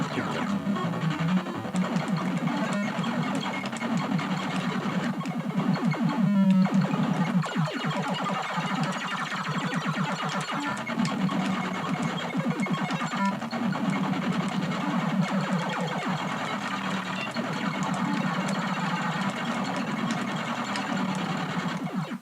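Aggressor on a VIC 20 computer plays its game sound, a harsh, buzzing electronic drone with rapid chattering pulses and a brief sweeping burst, running continuously and fairly loud with no talk.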